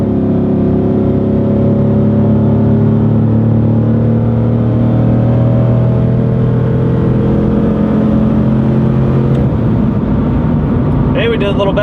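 2004 Chevy Silverado pickup with an upgraded cam accelerating hard on a snowy road, its engine a loud, steady drone heard from inside the cab, pitch climbing slowly throughout.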